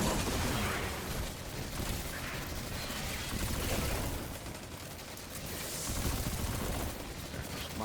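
Grenade blast and rapid gunfire in a Destiny first-person shooter's Expert Lost Sector, a dense, continuous barrage of shots and explosions filling the whole stretch at steady loudness with no talk over it.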